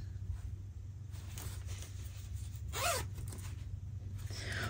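A pink YKK zipper pulled once along a sewn bag, a short close rasping zip rising and falling in pitch against a quiet background hum, no talking.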